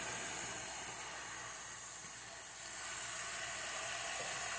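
Chopped onion sizzles in hot oil in a pressure cooker pan with chicken gizzards, a steady, even hiss that holds at the same level throughout, with no voices.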